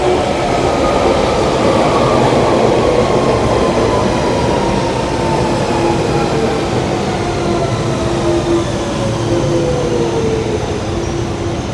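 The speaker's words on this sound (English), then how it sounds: "This is a Central Line train to Epping" London Underground Central Line train running steadily and loud throughout, a continuous rumble with a falling whine as it moves along the track, alone without voices.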